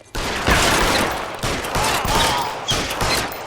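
Repeated gunshots crack out in a police shootout in the L.A. Noire video game, a steady series of loud, close reports over a few seconds with no talk.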